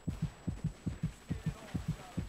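A heartbeat effect from the video game Vietcong 2 thumps in steady paired lub-dub beats, about six pairs, low, muffled and throbbing on its own.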